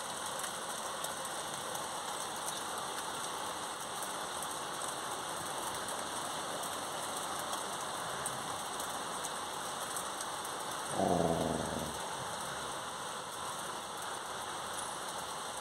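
Steady rain patters down continuously in southern Italy, a dense even hiss of drops on surfaces, with a brief low rumble partway through; no voices.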